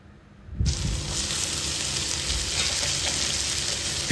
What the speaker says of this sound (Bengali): সবগুলো ভালোভাবে ভেজে এবার আগে থেকে কেটে রাখা শাকগুলো এর মধ্যে দিয়ে দেব।